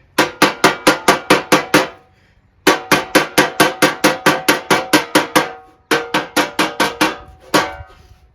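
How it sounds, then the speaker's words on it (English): Rapid rhythmic ball peen hammer strikes in three bursts, each a quick series of ringing blows reshaping the curve of a 1954 Bel Air's metal fender skirt, loud and close, with short pauses between. "Get out the old blacksmith tools, the ball peen hammer."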